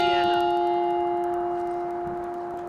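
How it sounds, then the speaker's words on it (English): A single church bell rings out with a sustained, resonant hum that slowly fades, steady and fairly close, with no voices. "As that bell rang"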